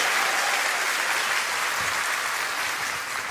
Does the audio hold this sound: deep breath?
no